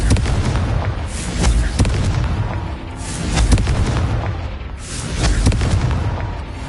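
Confringo fire spell explosions in the Hogwarts Legacy video game, a dense run of loud booming blasts and crackling bursts that swell and recede in waves, with no talk.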